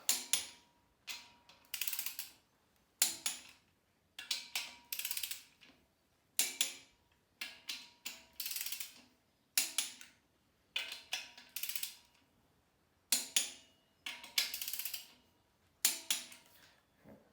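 Repeated ratcheting clicks from a torque wrench tightening bolts on a Honda H22A engine during a build, about a dozen short rhythmic bursts close up with brief pauses between, no talking.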